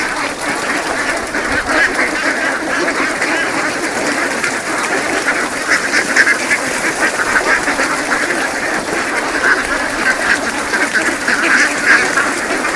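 Dense chorus of farmed ducks quacking nonstop as they peck at scattered grain, many birds calling at once close by in a busy, steady flock din.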